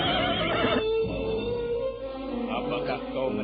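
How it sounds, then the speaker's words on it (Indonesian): In a radio drama effect, a horse whinnies loudly as hoofbeats approach, with a dense, busy rumble of movement continuing underneath throughout. "mendadak terdengar derap kuda mendekat"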